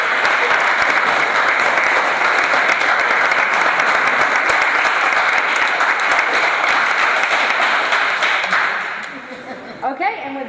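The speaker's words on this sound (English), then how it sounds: "I'd like to give all of you guys a huge round of applause" A high school audience gives sustained, dense applause that stays loud for about eight seconds, then tapers off, with a voice speaking briefly at the end.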